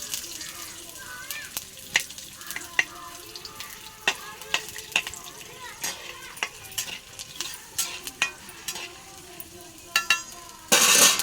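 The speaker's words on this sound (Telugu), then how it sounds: "నాలుగైదు వెల్లుల్లి రేఖలు వేస్తున్నాను, కొంచెం అల్లం ముక్క" Garlic slices and a piece of ginger frying in a hot pan, a steady sizzle broken by frequent sharp crackles and pops as they are stirred, close and moderately loud, with a louder burst of sizzling at the end.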